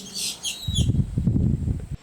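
Small birds calling at Paynes Prairie, Florida, a short burst of bright chirps at the start, followed by a low rumbling outdoor noise that runs to the end.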